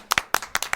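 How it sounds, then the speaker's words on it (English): Scattered clapping from a small audience at a comedy competition semifinal, a handful of distinct, fairly close hand claps in uneven bursts rather than a full wash of applause. "Y'all make some noise and clap it up"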